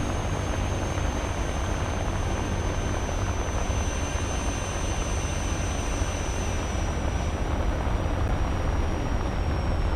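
In the War Thunder game, an FR-1 Fireball aircraft's engine roars as a steady, dense drone while it slows down for landing, with a faint high whine slowly falling in pitch and no talk.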